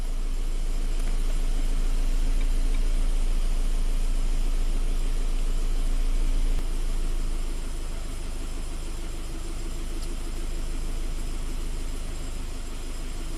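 A Scion FR-S / Subaru BRZ engine idles roughly with a camshaft timing fault, giving a steady, loud low drone that eases slightly partway through and continues without any talk.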